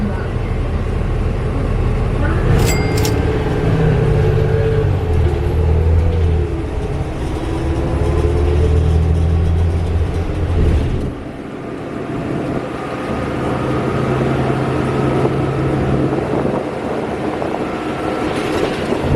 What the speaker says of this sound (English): We're on a bus that is just chilling in the shoulder.